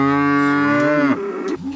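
A cow in a pasture gives one long, loud, close moo that drops in pitch at the end, followed by a short lower grunt, with no talking.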